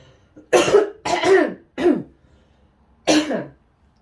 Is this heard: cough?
yes